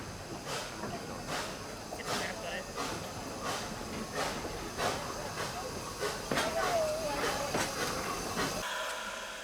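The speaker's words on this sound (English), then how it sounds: "So they're turning the train around. They're shunting at the moment" West Coast Wilderness Railway train shunting at the end station in Tasmanian rainforest, a steady rumble with hissing and repeated metallic clanks of rolling stock, fairly close, with voices in the background.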